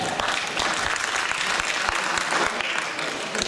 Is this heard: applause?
yes